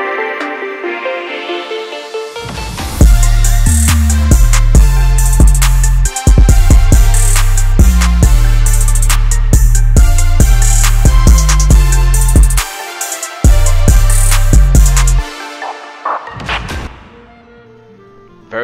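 Opening section of a produced hip-hop beat, a synth pad bed joined by heavy booming bass notes and sharp percussive hits that play steadily, then drop out briefly near the end before the pad fades alone.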